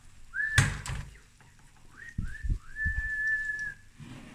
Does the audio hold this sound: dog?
no